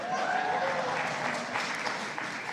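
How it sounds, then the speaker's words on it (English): An audience at a U.S.-Africa Leaders Summit forum applauds, a brief, even burst of many hands clapping at moderate distance, steady throughout with no voices over it. "You can applaud that if you'd like"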